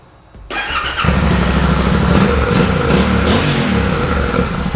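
A Yamaha Tenere 700 motorcycle with a modified exhaust starts up after a brief quiet moment and settles into a loud, steady idle with a rough, throbbing rumble.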